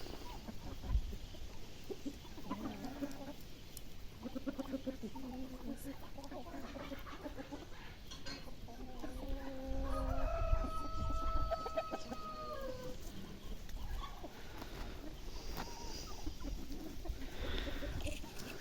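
Chickens cluck on and off nearby, then a rooster crows in a long drawn-out call, with cold wind and outdoor rustling throughout, on a mid-October day in the Kyiv region.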